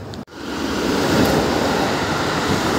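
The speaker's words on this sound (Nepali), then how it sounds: "ट्रेन यसरी हावा हान्छ" Rushing wind from a passing train in Japan, a sudden broad roaring whoosh that swells quickly and stays loud and close for a few seconds.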